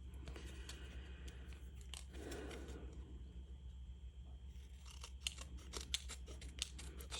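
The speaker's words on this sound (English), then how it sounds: "Just run your scissors up against the edge of the background paper that we die cut with basic borders." Scissors snipping along the die-cut edge of background paper for a papercraft card, faint close-up cuts and rustles, sparse at first and then a few sharper snips near the end, with no talk.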